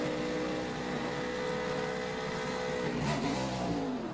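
NASCAR race car engine at high RPM leaving pit road during the 2009 Toyota/Save Mart 350, a loud sustained roar that swells and rises in pitch near the end.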